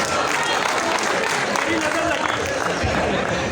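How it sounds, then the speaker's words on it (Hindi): Applause fills the hall at an awards show, a continuous, loud spread of clapping from the audience with voices talking over it. "बहुत से तालियां मेरे इन लोगों के लिए।"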